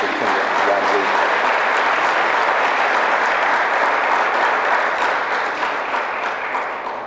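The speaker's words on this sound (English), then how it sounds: "let's give a big round of applause to our superintendent, Ron Lee" A large audience claps for a school superintendent at the grand opening of a STEM academy, loud dense applause holding steady for several seconds before tapering slightly at the end, with some voices mixed into the crowd.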